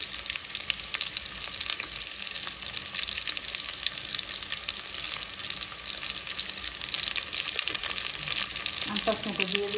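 Chopped garlic and onion fry in a hot pan for boua bhat, giving a loud, steady sizzle with constant crackle that runs the whole time. A few utensil scrapes come near the end.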